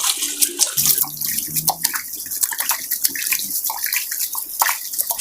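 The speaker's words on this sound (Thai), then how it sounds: "อ่าอันนี้ล้างรอบสองนะคะ ทำเหมือนเดิมค่ะ ให้เราขยี้ขยี้ความเค็มออก" Mee sua noodles are rinsed by hand in a basin of water to wash out the saltiness, with continuous close splashing, sloshing and tap-like running water in uneven bursts.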